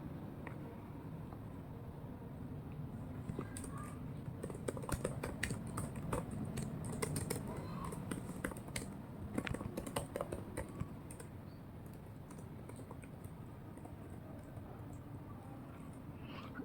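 Someone types a name on a computer keyboard, scattered quick key clicks in short bursts over a quiet room hum, fairly close but soft.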